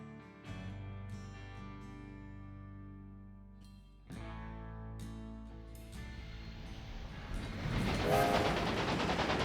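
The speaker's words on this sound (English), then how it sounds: "There's our train." Train from the Railway Empire 2 video game rolling along, heard as steady rail rumble with game music layered in, growing louder and busier toward the end; no one speaks.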